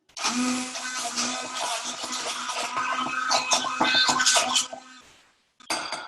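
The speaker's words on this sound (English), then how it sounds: "their stick blender, and we're just going to mix it to form a paste." A stick blender whirs loudly and steadily, mixing a salmon dip into a paste, with clinking and rattling against the container, then cuts out briefly before starting again.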